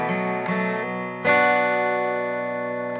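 Guitar riff on the fifth string with fast hammer-ons, played in a worship-song lesson: a few bright plucked attacks, then the notes ring and sustain cleanly, close and clear, with no voice.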